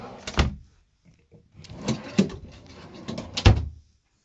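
Deep drawers in a Country Coach motorhome slide open and shut, giving three sharp knocks separated by rumbling, rattling slides, all close and with no talking.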